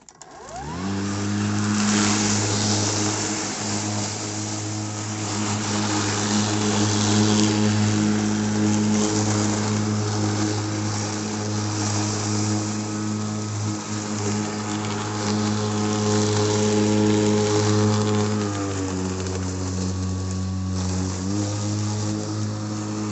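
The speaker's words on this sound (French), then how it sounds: "C'est une tondeuse, très simple, pas de bac de ramassage, en position haute." A simple lawnmower without a grass catcher, deck set high, shreds a green manure crop in a garden, its engine droning steadily and loudly at close range for over twenty seconds, with a brief dip in pitch near the end.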